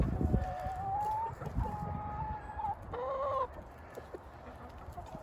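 Meat-breed roosters and hens in a garden cluck and crow, with drawn-out crows overlapping a busy bed of clucking, fairly close and steady throughout.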